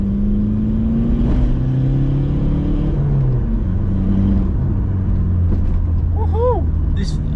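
A small Skoda Fabia vRS hatchback engine drones and climbs in pitch under acceleration, steady and close from inside the car, with a person talking over it.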